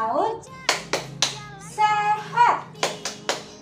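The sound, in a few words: preschool children doing a clap chant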